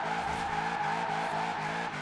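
A car in Forza Horizon 4 slides through a handbrake drift, tires squealing steadily under a pulsing engine note, loud and close throughout.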